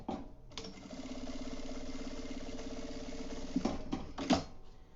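A sewing machine running a seam along the side of a kitchen fabric panel, a steady close mechanical whir for several seconds before stopping, followed by a few handling clicks and knocks.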